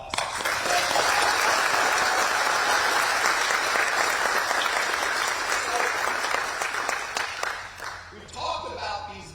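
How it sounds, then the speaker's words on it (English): An audience applauds the delegates who worked on the bills at a Virginia governor's bill-signing event, a sustained dense round of clapping that thins and tapers off near the end. "I just wanted to make sure that you all gave them one last round of applause"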